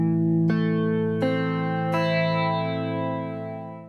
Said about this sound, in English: And if we were to play one string at a time,